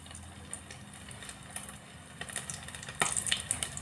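Battered shrimp fry in hot oil with a low bubbling hiss that swells into a louder crackling spurt as more pieces drop in.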